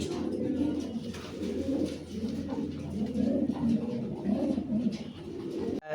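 Lahori pigeons coo steadily in a farm loft, a low, rolling, overlapping murmur from several birds at close range with no talk.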